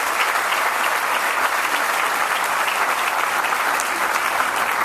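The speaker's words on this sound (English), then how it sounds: "Give him a great round of applause" A large audience at a farm science review gives loud, dense, sustained applause for the Secretary of Agriculture, an even roar of clapping that holds steady throughout with no voices breaking through.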